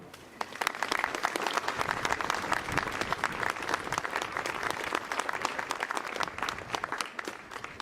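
An outdoor crowd at the inauguration of an Alan Stivell statue in Carhaix applauds the sculptor Elisabeth Cibot, a fairly distant, even wash of many hands with sharp individual claps standing out, continuing for several seconds.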